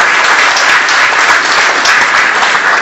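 At a graduation ceremony, an audience applauds top-ranked students receiving recognition, loud dense clapping from a large crowd that holds evenly from start to finish.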